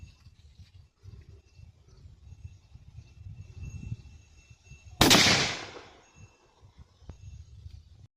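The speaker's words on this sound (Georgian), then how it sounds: "მომდევნო სროლა I-58 ნახევარ ჩოკი 7 ნომერი" A single loud shotgun blast from a Huglu 201A with half choke firing a No. 7 32-gram shell cracks sharply and decays over about a second, with quiet outdoor background before and after and no talking.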